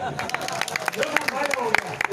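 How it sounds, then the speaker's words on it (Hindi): A political satire audience claps on request, producing a dense patter of hand claps that runs throughout under a murmur of crowd voices and talk. "पूरे 900 सेकंड का वायदा कर दो, ताली बजा दो"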